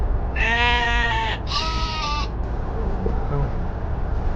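A sheep in snowy Altay countryside gives two loud, close, drawn-out bleats one after the other, followed by quieter outdoor ambience.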